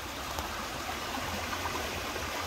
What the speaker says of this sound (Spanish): Ahí pasa el agua